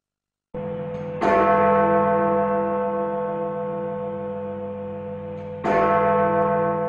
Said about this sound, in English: let's go over to Westminster for the chimes of Big Ben